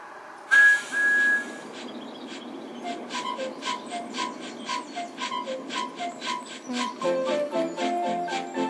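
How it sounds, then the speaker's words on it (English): A high Thomas the Tank Engine train whistle in a video game sounds once, two short toots, followed by bright chiming game-like notes playing a quick tune. "pull Thomas's whistle"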